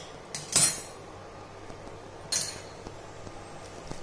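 A spoon stirs soaked sabudana with boiling water and salt in a metal vessel, giving two distinct metallic clinks against the vessel over a quiet background.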